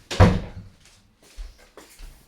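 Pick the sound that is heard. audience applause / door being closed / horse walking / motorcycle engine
door being closed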